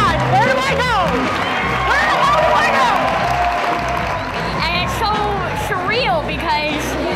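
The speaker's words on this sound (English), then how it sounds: "they call your name and everybody starts clapping and cheering" Crowd at an award ceremony cheering, shouting and clapping loudly and continuously, with excited voices rising above a dense, steady wall of applause.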